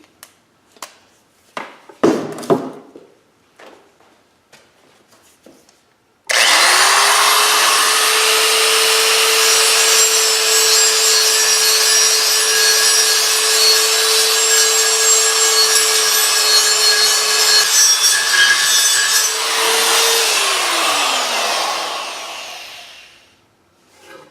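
Power grinder working down an aluminum LS V8 intake manifold in a driveway: a few scattered clanks, then the tool spins up into a loud, steady high whine for about fifteen seconds before winding down.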